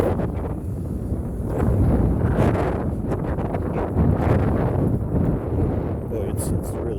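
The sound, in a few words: strong wind blowing into the microphone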